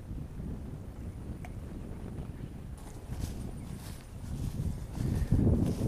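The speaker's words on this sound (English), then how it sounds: "It's a little tough right now because it's windy." Wind blows steadily outdoors by a pond, a broad rushing noise with low buffeting that grows stronger near the end.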